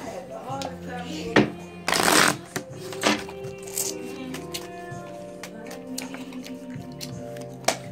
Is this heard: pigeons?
no